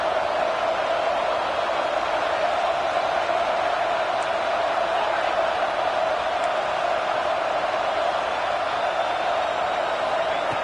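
A stadium crowd in a college football video game, a steady broad roar of cheering holding level throughout with no voices over it.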